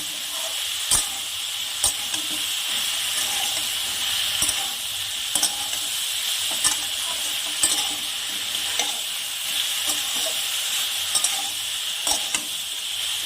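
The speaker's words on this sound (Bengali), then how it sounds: "এবার আমি এটাকে এই মশলাগুলোকে আলু আর ঝিঙের সাথে একটু ভাজা ভাজা করে নেব।" Spices fry with potato and ridge gourd in a pan, giving a steady, close sizzle with a loud hiss and sharp stirring scrapes every second or so, with no voices.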